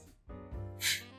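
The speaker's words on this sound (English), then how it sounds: "Hold on, I need to sneeze." A sneeze from a streamer: a quiet breathy intake, a tonal voiced build-up, then a sharp bright burst of breath near the end, close to the microphone.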